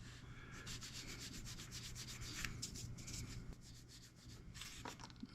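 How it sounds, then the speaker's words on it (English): Fine 800 grit sandpaper rubs quickly back and forth over a plastic Miniart Stuart M3 tank model kit part, a soft close scratchy rasp in a steady rapid rhythm, quite faint. "Give it a quick sand with some 800."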